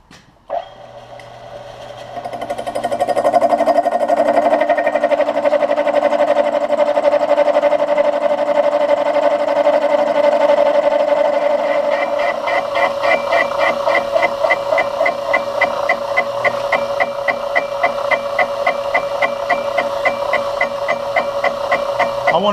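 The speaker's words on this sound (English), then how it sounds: "I'm going to slow it down and run it at a slower RPM and hopefully eliminate some of that chatter." A machine tool cutting a workpiece at reduced spindle speed gives a loud, steady droning whine, then turns to a rapid pulsing chatter in the second half, with no talk.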